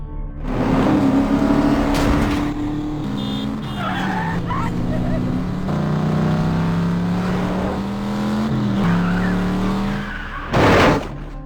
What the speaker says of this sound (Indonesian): Mobil yang mencurigakan tadi di parkiran mengikuti Ryan juga dari belakang, dan kejar-kejaran pun dimulai.